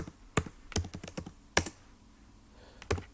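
Computer keyboard typing as a password is entered: a handful of sharp, separate key clicks in irregular rhythm, close and fairly quiet, with short pauses between presses.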